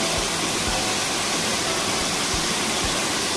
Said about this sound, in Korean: 시원한 물소리 실컷 듣고 갈랍니다.